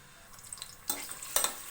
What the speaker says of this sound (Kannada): ಇವಾಗ ಎಣ್ಣೆ ಕಾದಿದೆ. ಇದಕ್ಕೆ ನಾನು ಈರುಳ್ಳಿ ಮತ್ತು ಬೆಳ್ಳುಳ್ಳಿ 2 ಕೂಡ ಜೊತೆಲೆ ಹಾಕ್ಕೊಂಡು